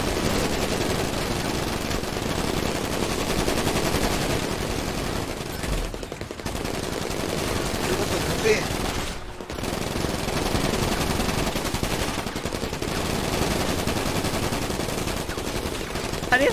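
Rapid bursts of automatic gunfire from a video game run almost without pause, loud and dense, broken by a couple of brief gaps.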